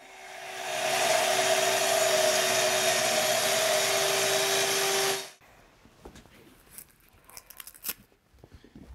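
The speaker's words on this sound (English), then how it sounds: "the track will stay in place without clamps while you cut" A saw rips a straight cut along a Kreg Adaptive Cutting System track: a loud, steady whine holds for about five seconds, then cuts off, leaving faint handling noises.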